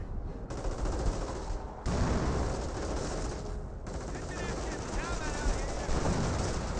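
Dense, sustained gunfire from a Company of Heroes battle, with rifle squads and Panzer Grenadiers trading fire: continuous loud rattling machine-gun bursts and volleys with no pauses, under a faint voice.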